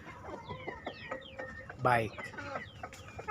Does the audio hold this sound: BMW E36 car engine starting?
no